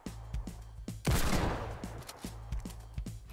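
Automatic sniper rifle fire in Fortnite, with a heavy blast and rumbling tail in the middle, surrounded by a quick regular run of sharp, lighter shots and clicks, close and fairly loud.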